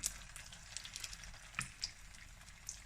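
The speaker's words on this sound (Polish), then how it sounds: "I kładziemy naleśniki na tłuszcz, obsmażamy je." Quiet, soft sizzling of pancakes in oil, with occasional small pops and crackles over a low, steady hiss.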